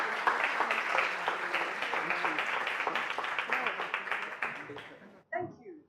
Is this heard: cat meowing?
no